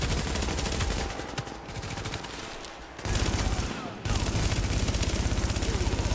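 Sustained automatic gunfire rattles almost without pause through a firefight in the video game The Division, loud and close, broken briefly by two short lulls before the shooting resumes.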